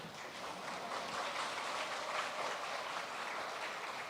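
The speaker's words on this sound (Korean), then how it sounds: "우리 여러분들의 박수는 우리에게 큰 힘이 됩니다." Audience at a school admissions briefing claps in a continuous, even wash of applause, faint and somewhat distant, with no voices over it.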